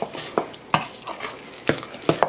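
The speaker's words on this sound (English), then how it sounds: "Stir that around a little bit." A spoon works through thick sweet potato bread batter in a bowl, giving a series of separate knocks and scrapes with soft swishing between them, close and fairly loud.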